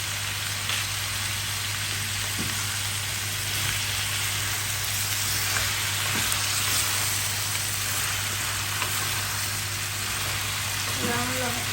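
Pinakbet vegetables, eggplant among them, sizzle and crackle steadily in a hot pan on a home stove, a continuous frying hiss with small pops, with faint talking in the background.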